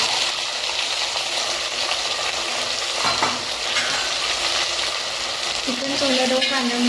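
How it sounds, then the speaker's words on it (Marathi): Chicken added to frying onion and tomato in oil for a Kolhapuri-style chicken rassa: continuous close sizzle with scraping stirs and a few clinks, a tonal hum entering near the end. "कांदा व टोमॅटो परतून झाल्यानंतर त्यामध्ये चिकन घालून घेऊ।"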